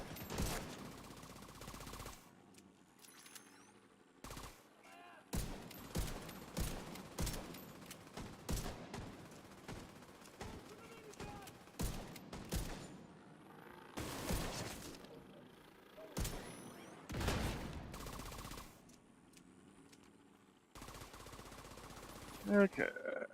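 Rapid bursts of automatic gunfire in the video game Division 2, loud and close, firing in repeated clusters separated by short pauses across the whole stretch, with a voice speaking faintly now and then.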